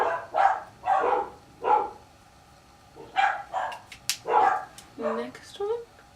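Several dogs bark in short bursts, some sharp yips and a whimper, mixed with a person talking nearby.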